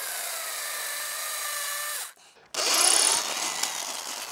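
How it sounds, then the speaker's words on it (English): A Black and Decker power drill whines steadily, cuts out briefly, then restarts with a rougher grinding tone as it bites into a mango wood slab. "I've got this beautiful Black and Decker drill, as you can see."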